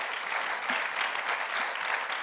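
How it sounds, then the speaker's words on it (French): Audience applause breaks out after a panel discussion on water circularity at a research-day conference round table, a steady, even clatter of many hands clapping together without voices. "Vous pouvez les applaudir."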